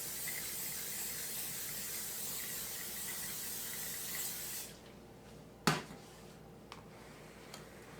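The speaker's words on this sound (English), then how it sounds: "I'm going to spray it where it won't stick." Cooking spray hisses steadily and fairly loudly into a casserole dish for about four and a half seconds, then stops, followed by a sharp clatter and a few faint knocks.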